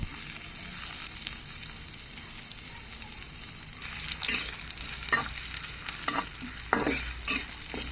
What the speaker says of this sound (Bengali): ভাজা হয়ে আসলে ওই তেলে দিয়ে দিব পেঁয়াজ কুচি